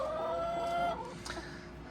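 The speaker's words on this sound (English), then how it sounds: "I'm here with my chickens." Backyard chickens under an orange tree give a short run of clucks and a drawn-out call, close and fairly quiet, with no talking.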